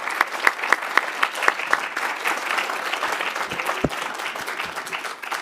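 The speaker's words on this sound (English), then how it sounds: "Can you join me in a round of applause?" An audience at a talk on military force and soft power gives a round of applause, steady clapping from many hands with a few sharp claps standing out, close and sustained throughout.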